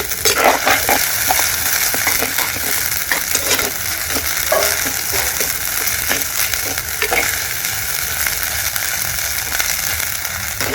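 Ginger garlic paste frying with onions in a pan for village-style mutton kuruma, a loud continuous close sizzle with scattered crackles and spoon scrapes throughout, no talk.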